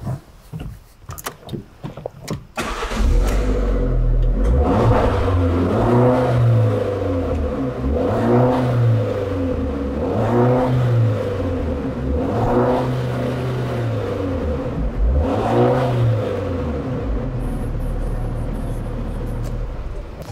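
A modified-exhaust 2022 Alfa Romeo Giulietta 1.4 turbo revs up several times in a row, each rise to a deep sporty roar dropping back to idle, loud and close after a few brief handling noises.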